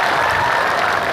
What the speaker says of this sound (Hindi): तालियां इनके लिए, तालियां।